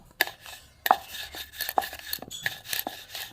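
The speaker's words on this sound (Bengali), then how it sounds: "ছোট ছোট করে আমি কেটে নেব" A knife chops rolled pitha dough into small pieces on a board, five or six sharp close taps in an uneven rhythm, with no talking.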